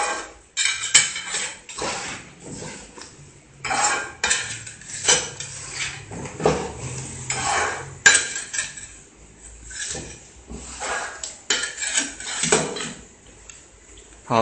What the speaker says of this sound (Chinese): 然后我们把模具的盖子盖上